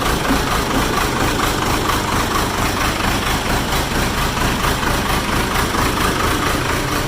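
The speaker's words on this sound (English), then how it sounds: "4-cylinder Cummins. Diesel." The 4-cylinder Cummins diesel in a Case 580E backhoe idles steadily nearby in winter snow, a loud, even, throbbing rumble with a regular pulsing beat and no talk.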